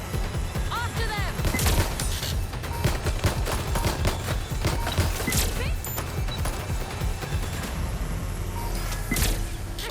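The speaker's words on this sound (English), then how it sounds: "They're shooting." Gunfire in the video game Watch Dogs Legion, loud bursts of shots and rapid fusillades crackling repeatedly through the whole stretch amid mechanical clatter, with brief talking.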